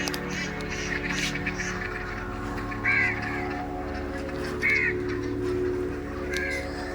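On a farm with ducks and chickens, several bird calls sound over a steady background hum, including a few short honking or quacking bursts at moderate distance.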